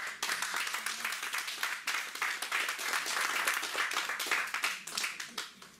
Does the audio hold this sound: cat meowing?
no